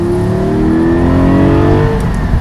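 A Porsche 718 Spyder with sport exhaust and a Cargraphic exhaust valve controller revs hard, its engine note climbing and then easing in a loud, close, continuous roar with no talking.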